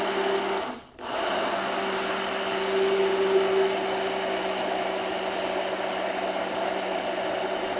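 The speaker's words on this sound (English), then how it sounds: "Then just slowly start moving that immersion blender up as you start to see the mayo forming at the bottom." An immersion blender runs steadily while emulsifying oil and eggs into mayonnaise, a loud continuous motor whir with a brief dip near the start and otherwise an even tone, no talking.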